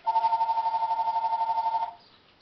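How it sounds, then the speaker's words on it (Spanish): A telephone rings with a rapid trilling warble, loud and close, for about two seconds before cutting off into quiet. "Vamos a ignorar el teléfono."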